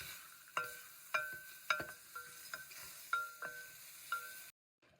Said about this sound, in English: whip them, just keep whipping them until they turn to sludge